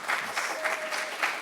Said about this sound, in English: That was not an applause line